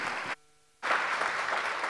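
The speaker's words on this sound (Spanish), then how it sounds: "pido un aplauso para los expositores" An audience applauds at a regional public-services conference on water for all, dense clapping filling the room in two stretches with a brief break between them.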